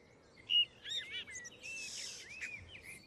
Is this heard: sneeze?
no